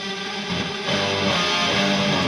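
Sustained electric guitar with a roughly 3-second hall delay and a wide reverb wash, chords smearing into a dense, atmospheric sound throughout.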